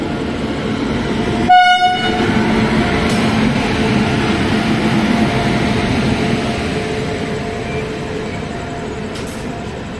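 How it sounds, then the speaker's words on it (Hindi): Pilibhit–Gorakhpur Express pulling into a station: a brief horn blast near the start, then a steady broadband rumble of rolling carriages and wheels that fades slowly, with a faint higher squeal near the end. "तो इधर अराइवल हो रहा है 15:10 पीलीभीत गोरखपुर एक्सप्रेस का।"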